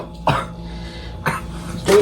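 Several harsh coughs from a person after smoking a blunt of Strawberry Cough cannabis, three separate bursts spaced about a second apart, loud and close with throat rasp between them.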